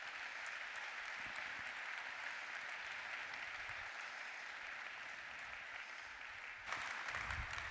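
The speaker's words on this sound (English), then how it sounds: "Big round of applause, please." Applause from a keynote conference audience as a process mining pioneer is welcomed on stage, a steady, fairly distant wash of many hands clapping that swells slightly near the end.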